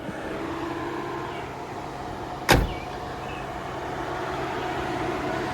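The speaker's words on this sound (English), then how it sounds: "you can hear the other fan is on" Steady whirring of a Jaguar XJS V12's electric cooling fan runs throughout with a faint engine hum, interrupted once by a brief sharp knock.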